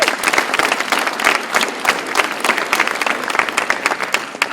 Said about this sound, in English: Clap it up for Randall Harding.